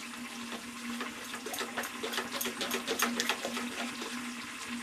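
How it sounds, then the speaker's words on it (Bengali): Water trickles and splashes steadily as it is poured into a vegetarian batter in a home kitchen, a continuous faint pouring sound with small bubbly splashes and no talk. "আমি এর মধ্যে আরেকটু জল দেব।"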